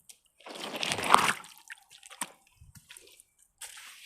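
Water slowly trickling out across a field, soft intermittent drips and gurgles with quiet gaps between them, faint and close.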